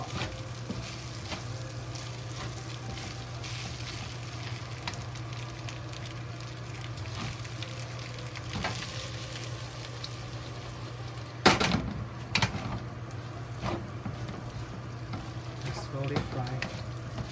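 Bacon and rice fry in a pot with a steady crackling sizzle, while a spatula scrapes and stirs in occasional sharp clatters and a low hum runs underneath.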